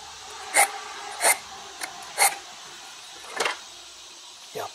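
Repeated rasping strokes of an Allen broadhead sharpener drawn along the edge of a Zwickey traditional broadhead, six short separate scrapes spaced irregularly over a quiet background, close by.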